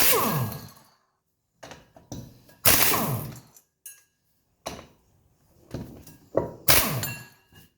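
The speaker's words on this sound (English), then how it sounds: "this is a heavy duty like 1700 foot-pound air gun, so that pulls them right out" A heavy-duty 1700 foot-pound air impact gun pulls Allen bolts from a hub during brake and suspension work on a 1985 Surf Wagon, firing several loud, close, rattling bursts separated by brief pauses.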